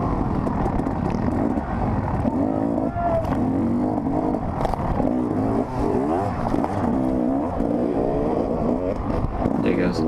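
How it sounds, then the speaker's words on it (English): Dirt bike engine revving repeatedly during a woods race, rising and falling close by in a loud, continuous stretch, with other engine noise and talk mixed in. "he's just revving his engine, telling me to get out of his way"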